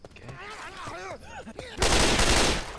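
Gunfire in the Left 4 Dead 2 zombie shooter video game striking a teammate: a loud, dense burst of rapid shots erupts abruptly after a stretch of game sounds and lasts about a second.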